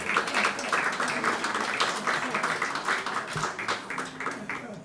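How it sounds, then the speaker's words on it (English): An audience at a university excellence awards ceremony applauds continuously in a steady, full round of clapping that holds throughout, with faint voices underneath. "I feel like we can applaud Thandi for the whole evening."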